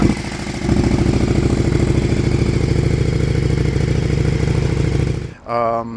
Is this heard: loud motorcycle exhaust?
yes